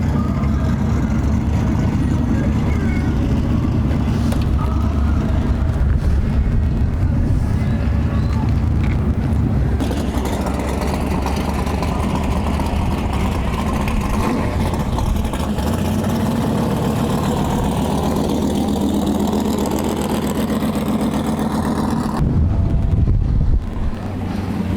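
A drag racing car rolls up and idles at a dragway season opener, a loud, deep engine rumble that runs throughout, buffeted by wind noise, with a shift in tone partway and a voice speaking over it.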